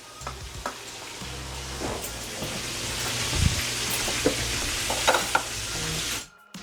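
Mustard-coated pork chops frying in hot oil in a pan, a steady close crackling sizzle with scattered louder pops and stirring clicks, running alone throughout before cutting off abruptly near the end.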